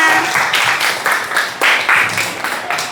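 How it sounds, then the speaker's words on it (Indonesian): A group claps together in short rhythmic bursts at a workshop or training session, the applause swelling and fading several times over a few seconds, with no talk. "Oke, tepuk tangan untuk kita semuanya"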